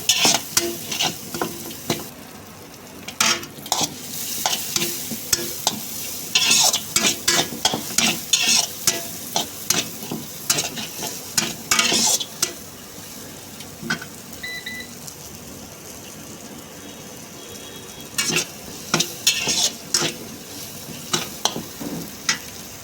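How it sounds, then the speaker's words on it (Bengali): Chopped bell pepper stir-fried in a pan for hot garlic chow mein, with repeated bursts of loud sizzling and scraping stirring strokes over a steady hiss, pausing briefly mid-way before the bursts resume. "তারপর দিয়ে দেবো কেটে রাখা বেল পেপার। হালকা নাড়িয়ে নেব"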